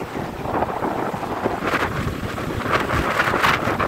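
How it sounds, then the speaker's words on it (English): Strong wind buffets the microphone at the seashore, a steady loud roar with gusts swelling and easing throughout, and no voices. "Very windy day."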